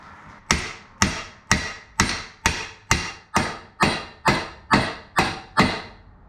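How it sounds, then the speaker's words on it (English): A hammer strikes a motorcycle shifter linkage piece on a Shovelhead in eleven sharp, evenly spaced metallic whacks about half a second apart, each loud and close and ringing briefly. "I'm hoping I can just hammer it and then maybe drill it out"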